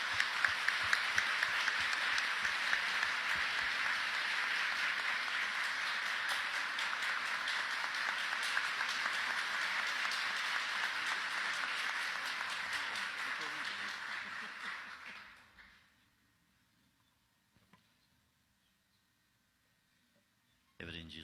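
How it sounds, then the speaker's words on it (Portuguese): Sustained applause from a church audience at a Catholic gathering welcoming a guest: steady, even clapping for about fifteen seconds that fades out quickly and leaves near silence. "Nos acolhamos com uma salva de palmas,"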